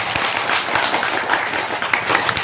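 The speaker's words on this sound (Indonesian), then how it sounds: "tepuk tangan untuk kita semua" An audience at a Dayak customary gathering in Bakung, Marau, breaks into dense, steady applause, many hands clapping together in a continuous wash of sound.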